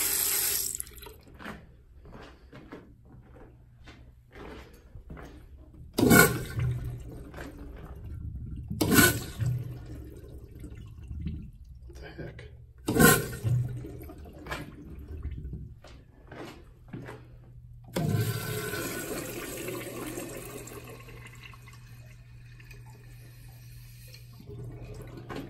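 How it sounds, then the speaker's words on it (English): Vintage toilets in an office building bathroom in Norman, Oklahoma flush several times in a row, each a sudden loud rush of water, and a longer gurgling refill runs near the end in a quiet room. "Very good flushes."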